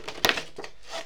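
A plastic bottle is cut with a few close, crisp crunches and crackles, one sharp snap standing out among fainter clicks.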